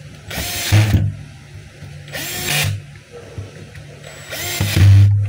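A DeWalt D25133 rotary hammer drill spins up in three short whirring bursts separated by pauses, running close and loud in reverse.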